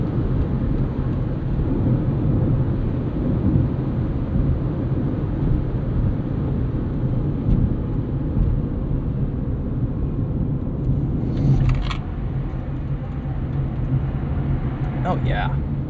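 A 2004 Honda Civic Hybrid on Delente tires rounds a corner on a test loop, a steady engine and road drone with tire noise that holds throughout, a brief rise near the end.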